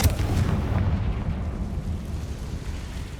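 A Confringo fire spell blasts in the Hogwarts Legacy game, giving a loud, deep rumbling explosion that starts hard and rolls on as a low roar for a few seconds.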